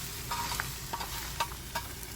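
Eggs are stirred and mixed on a hot hibachi griddle. A steady frying sizzle runs close by, broken by several sharp spatula scrapes and taps at an uneven rhythm.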